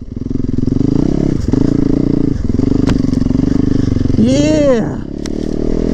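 An off-road motorcycle ride is heard up close as a loud, steady engine drone with some clattering and a short pitch swing. A rider briefly exclaims over the engine.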